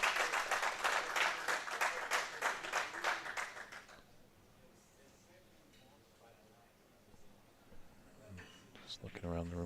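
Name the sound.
applause in the background at a snooker championship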